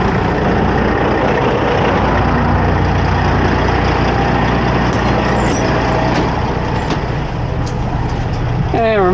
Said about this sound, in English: So we'll just go kick on the pump